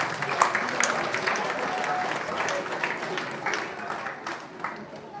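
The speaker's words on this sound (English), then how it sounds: "Please give a big welcome applause for Mr. Jonas Schäfer." Audience applause welcoming a speaker at the Champions Bowl Finals 2018 opening ceremony, a continuous wash of clapping from a crowd that gently tapers off near the end.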